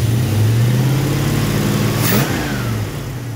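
A car engine revs up loud and close as the throttle opens, its pitch climbing steadily, then easing back down near the end as the revs fall away.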